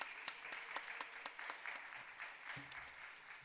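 A church congregation claps during a service, a faint, distant patter of applause with a few sharper individual claps standing out, fading toward the end.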